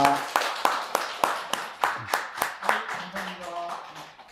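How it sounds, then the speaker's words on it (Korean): Audience claps at a Buddhist temple gathering in thanks after a health lecture. Rhythmic, evenly spaced claps land in unison, with voices heard faintly beneath. "탄성 강희병 원장님께 감사의 큰 박수 부탁드립니다"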